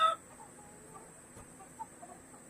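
Hens clucking softly on a Missouri homestead as they are gathered up: faint, scattered clucks at a distance over a low outdoor background, with no voices.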